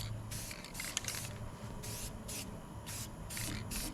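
Second coat of black paint sprayed onto a custom front bumper for a shop truck: short bursts of aerosol hiss, about eight in a row with brief gaps, close and fairly faint over a low background hum.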